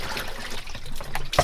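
Laundry being rinsed on a sailboat with fresh water from the boat's water maker: close splashing and trickling of water as fabric is handled, ending in a brief louder slosh.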